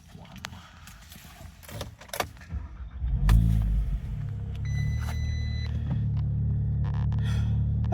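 An Audi S3 Cabriolet engine settling into a steady low idle just after start-up, a deep continuous rumble close by, with some key and cabin handling noises beforehand and no talk.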